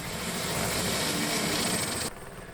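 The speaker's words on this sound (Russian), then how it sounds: "доверяя пропеллерам вертушки, что те не наклонятся ни при каких обстоятельствах, даже если пилот сбавит тягу" A helicopter's rotor and engine run loudly and steadily at close range at a Himalayan mountain camp, a dense continuous roar that drops abruptly in level near the end, with no voices.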